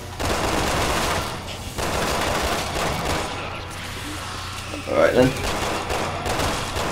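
Rapid gunfire bursts in the action game Resident Evil 6, loud repeated volleys and a sharper hit near the end, with someone speaking briefly over the shooting.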